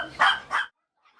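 Puppies in a crowded container at a dog breeding facility on Ganghwa Island, Incheon give two quick, high yapping barks close by, then go silent.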